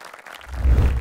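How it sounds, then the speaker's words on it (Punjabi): Audience applause for a girl contestant at a Punjabi singing competition semifinal, a burst of clapping that swells in the second half of a brief moment. "ਤਾੜੀਆਂ ਜੀ ਕੁੜੀ ਲਈ"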